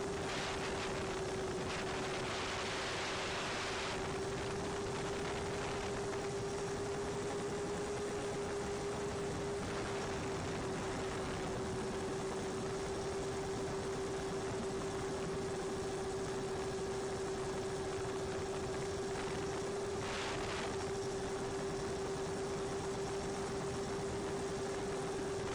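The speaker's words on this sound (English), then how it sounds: "This is my first twin motor plane, and it's also running 3-blade props" A twin-motor SonicModell Binary RC plane with three-blade props flies over green Tennessee hills, giving a steady, unbroken motor drone that holds one pitch for the whole stretch under a constant hiss of wind.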